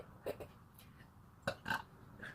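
Several short, throaty burps sound one after another in a casual home setting, close to the mic and fairly loud, with brief pauses between them.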